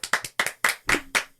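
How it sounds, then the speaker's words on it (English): Hands clap close by in a quick, uneven burst of about eight sharp claps as movie credits roll, fairly loud, with no voices over them. "I'm clapping for the credits."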